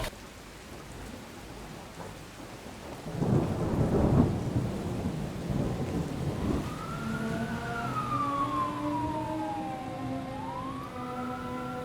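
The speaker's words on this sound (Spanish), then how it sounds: "Paremos, empezó a llover." Steady rain falls with a deep burst of thunder rumbling in the middle, then a siren begins wailing with rising and falling tones over the downpour.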